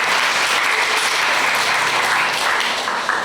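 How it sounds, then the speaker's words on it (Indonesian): Parish audience at a Lunar New Year celebration gives a loud, dense, sustained round of applause for the OMI missionaries, a continuous close wash of many hands that barely wavers. "Mari kita beri tepuk tangan untuk Misionaris Kongregasi OMI"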